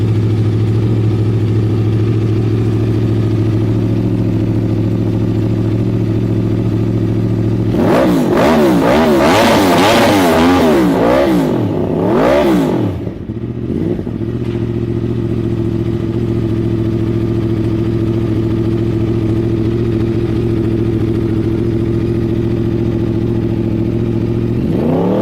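Yamaha YZF-R motorcycle with its standard exhaust: a steady, throaty idle, then several seconds of hard revving that rises and falls in repeated bursts before settling back to a loud, even idle, close by with no talking.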